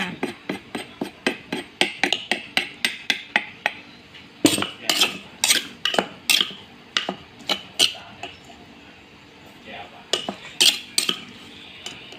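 Metal utensils scoop steamed herbal tilapia from a dish, giving a steady run of bright clinks and taps, quick and evenly spaced at first, then sparser and louder.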